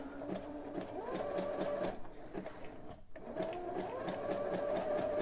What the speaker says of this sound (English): let's sew, and then I'm going to go back